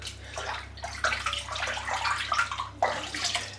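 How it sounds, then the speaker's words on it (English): Shaving soap rinsed out under running tap water, a steady close splash and gurgle with changing bursts as hands move through the stream, with no voices. "I'm just going to rinse this soap out."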